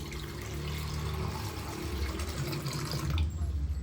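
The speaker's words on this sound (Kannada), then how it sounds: "ಸ್ವಲ್ಪೇ ಸ್ವಲ್ಪ ಮಿಕ್ಸಿ ಜಾರ್ಗೆ ನೀರು ಹಾಕೊಳ್ತೀನಿ" Water pours steadily into a mixer grinder jar holding ground coconut for a brinjal gravy, a continuous close trickle and splash with no talk.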